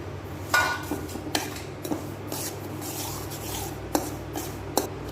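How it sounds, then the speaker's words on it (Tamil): Semolina (rava) for rava kesari roasts in a pan while a utensil stirs it, making close, dry scraping and rubbing strokes with sharper scrapes at irregular intervals, and no voices. "இப்போ ஒரு பேனில் நம்ம அந்த ரவையை வறுத்து எடுத்துக்கலாங்க"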